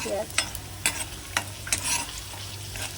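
An egg frying in a pan, a soft constant sizzle broken by several sharp scraping strokes of a spatula at irregular intervals, close and moderately loud.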